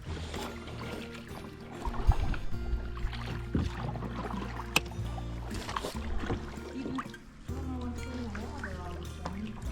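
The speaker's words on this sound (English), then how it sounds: "we've been paddling about an hour" Kayak paddling on water in Antelope Canyon near Page, Arizona, with paddle strokes dipping and trickling water along the hull against a low, steady background rumble, close by and moderately loud throughout.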